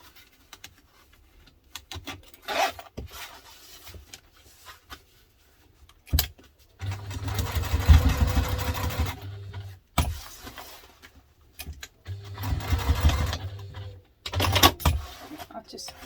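A sewing machine stitching a duffle bag runs in two bursts of a few seconds each, a low droning whir with rapid clicking, separated by quiet stretches of fabric handling and sharp taps.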